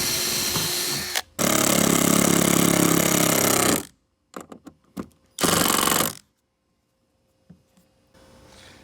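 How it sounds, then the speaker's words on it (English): A power drill bores holes into the aluminum hull of an older Bass Tracker boat, running in two loud sustained bursts of a few seconds each, with short clicks and pauses between and a faint hum at the end. "I'm going to drill this out and then make the holes a little bit bigger just to the aluminum"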